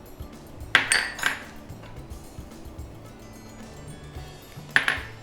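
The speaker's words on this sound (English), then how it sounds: "let me take a half teaspoon measure as in the measuring spoon and see how much does a half teaspoon weigh" A metal measuring spoon clinks on a container while measuring out cumin seeds, giving a few light, bright metallic taps close by over faint room noise.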